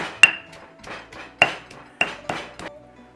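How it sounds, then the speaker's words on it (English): Curry paste ingredients are pounded into a paste, giving a series of sharp, evenly spaced clinking knocks with bright metallic rings, close and fairly loud, with no talk. "All you gotta do is mash that into that paste."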